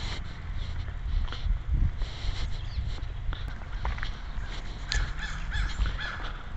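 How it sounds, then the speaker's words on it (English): A crow caws outdoors, several harsh calls at moderate distance amid a constant low outdoor rumble and faint footsteps-like shuffling. "Crow."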